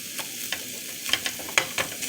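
Ground beef frying in a pan for spaghetti sauce, seasoned with garlic salt and rosemary, gives a steady low sizzle broken by several sharp scraping stirs of a utensil, close and moderately loud with no talking.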